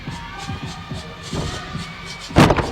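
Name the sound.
gymnastics meet crowd cheering a routine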